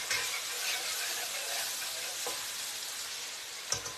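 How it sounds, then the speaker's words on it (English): A whisk works evaporated milk into a darkened roux in a hot pan, a steady close sizzling hiss with soft scraping and a couple of small clinks. "And I'm just going to start whisking in my evaporated milk."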